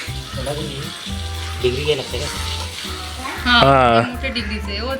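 Fish roasting over a wood-fired chulha in a Konkan kitchen gives a steady, soft sizzle and crackle throughout, mostly under continuous nearby conversation.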